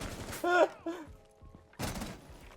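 A gunshot in Rainbow Six Siege, a single-shot one-tap kill, sounds as a short sharp burst amid game effects.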